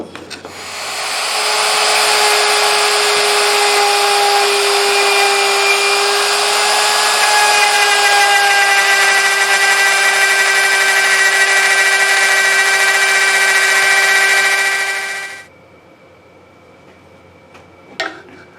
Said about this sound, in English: There's our mortise. Now we'll cut the other one.